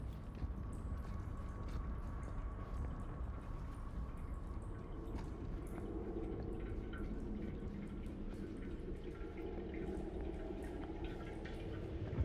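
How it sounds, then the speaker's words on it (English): Steady running water with faint dripping in a dim, catacomb-like underground space in the game The Casting of Frank Stone, a continuous low wash that holds even throughout with no voices. "But I am hearing running water"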